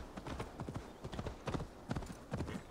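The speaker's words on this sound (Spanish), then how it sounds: "en verdad no se hace tan pesado lo de ir a caballo" Horse hooves gallop in a quick, steady clip-clop rhythm in the video game Assassin's Creed Valhalla, faint and close, with no talk over them.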